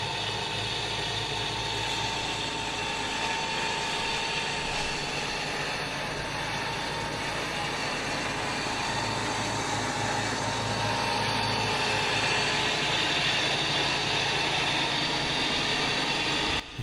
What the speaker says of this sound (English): you can hear me slightly revving the engine to about 1500 RPM.